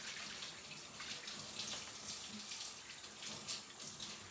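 Tap water runs steadily into a kitchen sink while egg beaters are rinsed clean, a faint, even splashing rush with slight fluctuations and no voices.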